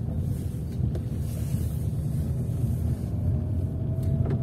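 A car travels along a dirt road heading toward a brick factory near Kirovo-Chepetsk, its engine and tyres making a steady low rumble with some wind buffeting throughout, heard from inside, with no talking.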